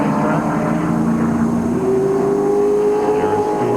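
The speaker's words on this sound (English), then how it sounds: "Stewart stalls the Pontiac, now 3 fires, and he's away." Stewart's Pontiac NASCAR stock car fires after stalling and pulls away, a loud, close engine tone climbing steadily in pitch as it accelerates, with general track noise beneath.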